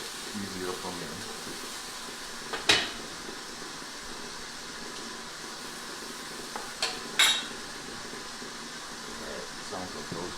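A potato, onion and pepper hash sizzles in a pan while it is stirred, with a low steady frying hiss broken by two sharp utensil knocks against the pan.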